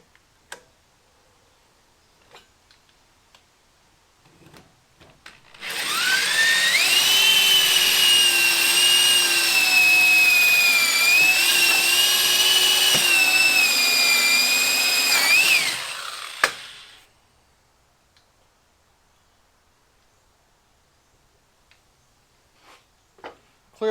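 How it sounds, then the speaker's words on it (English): A power drill bores into a board for a DIY phone speaker stand, running as one steady loud whine of about ten seconds with slight pitch shifts, preceded and followed by faint clicks and handling noise. "I'm hoping by drilling into this board, grabbing onto that,"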